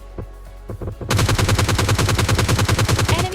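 Rapid automatic gunfire in PUBG Mobile Lite, a few scattered shots followed by a long, loud, evenly spaced burst of rounds close up, with no talk.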